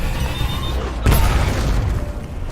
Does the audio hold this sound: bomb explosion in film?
yes